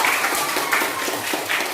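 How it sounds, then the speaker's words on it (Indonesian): Students clap together in a classroom, a dense, steady patter of hand claps filling the room for a couple of seconds with no talking over it. "tepuk tangan dulu."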